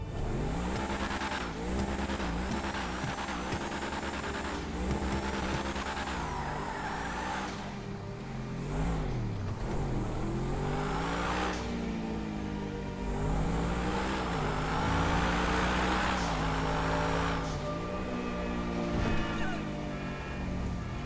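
Truffade Adder supercar engine in the GTA Online video game, revving up and down repeatedly with rising and falling pitch, loud and continuous with no talking.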